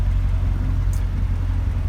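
Chevrolet Corvette Grand Sport arriving at a gathering of Corvettes, a steady low engine rumble close by with no revving peaks, holding even throughout.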